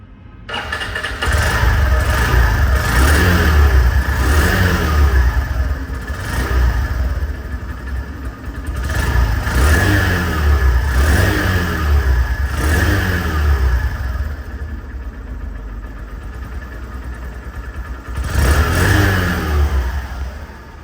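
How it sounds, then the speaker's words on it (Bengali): A Honda Shine 100cc motorcycle engine starts and revs repeatedly, several loud rising bursts of throttle over a steady close idle, with no talking. "এই বাইকটির সাউন্ড কোয়ালিটি সম্পর্কে আসি"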